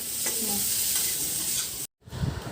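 Soybean, potato, cauliflower and carrot sizzle loudly in a pan while being stirred, then the sound cuts briefly before a few louder clatters.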